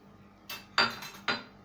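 Almonds and pistachios are tipped into a pan of melted ghee, making three quick clattering, clinking bursts against the metal, the last two louder, with no talking.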